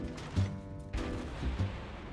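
Warship guns firing in the naval video game World of Warships, aboard the cruiser St Louis: several booming reports in quick succession over a steady low game rumble, fairly faint overall.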